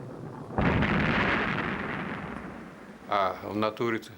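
A rocket launch explosion at Baikonur Cosmodrome heard as a sudden loud roaring blast that rumbles on for a couple of seconds, then gives way to someone speaking.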